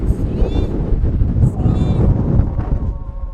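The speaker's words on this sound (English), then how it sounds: "It's windy." Heavy mountain wind at Brian Head, Utah buffets the microphone with a constant low rumble, and faint voices can be heard beneath the gusts.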